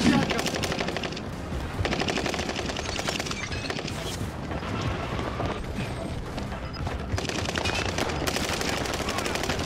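Video game firefight with sustained rapid automatic gunfire, dense bursts of shots continuing almost without pause throughout.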